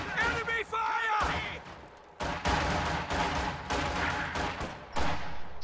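Enemy gunfire crackles in a war strategy video game, repeated bursts and heavy impacts at an irregular rhythm, fairly loud, with a voice talking over them.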